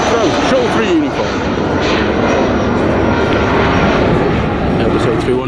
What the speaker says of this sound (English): Airbus A319. And it's the Lufthansa going back to Munich.